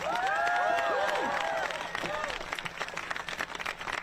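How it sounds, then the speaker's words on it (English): A crowd at an anti-Trump student protest at Harvard applauds and cheers, with whistles and shouts over the clapping at first, then thinning to scattered claps as the noise fades. "Let's have another immense round of applause for Professor Ryan Enos."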